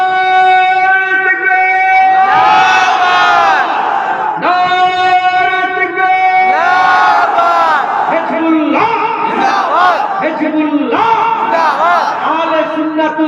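A large crowd at an open-air Islamic religious gathering (jalsa) roars back the 'Allahu Akbar' response to a takbir call in loud, sustained, overlapping surges, with a strong lead voice over the massed chanting.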